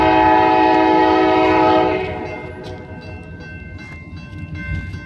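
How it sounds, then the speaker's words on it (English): A CSX freight train led by an AC60CW locomotive passes in Towson, opening with a loud sustained multi-chime horn blast that cuts off after two seconds, leaving the steady rumble of cars rolling by. "a CSX TQ192-22 with an AC60CW leading the pack"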